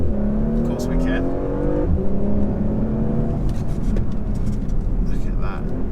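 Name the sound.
Porsche Macan S accelerating toward 60 mph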